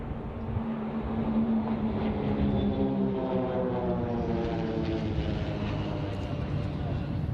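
Several propeller aircraft passing in formation at an air show, a rising and fading drone of engines overhead, fairly loud and continuous, with a faint voice in the background.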